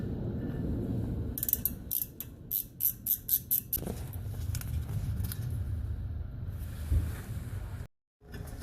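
A ratchet wrench loosening a brake caliper bolt on the front brakes of a Chevrolet Camaro, a quick run of close, sharp clicks followed by metallic creaks and shuffling.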